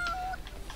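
Cat-type enemy in Megadimension Neptunia VIIR letting out a short, bright meow, a single brief call followed by soft game noise.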